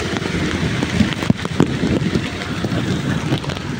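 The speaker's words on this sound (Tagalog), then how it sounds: "Napakalakas ang ulan po dito sa BGC mga kagros." Heavy rain pours steadily during a thunderstorm in BGC traffic in Manila, a dense continuous hiss with gusty wind buffeting the microphone and a few sharper thumps, no voices.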